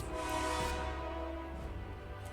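A train horn from a passing train carries in through an open door, a loud sustained blast with steady harmonic tones that fades slightly over a couple of seconds, heard alone.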